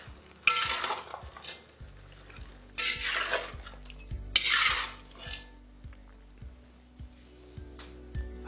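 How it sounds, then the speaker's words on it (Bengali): Spices and mutton being sautéed in a pot for a wedding-style mutton curry, with three bursts of scraping stirs over a low sizzle, plus scattered clinks of utensil on metal, close and fairly quiet, no talking. "এই মশলাগুলোকে আপনাদের ভালো করে কষিয়ে নিতে হবে মাটনের সাথে"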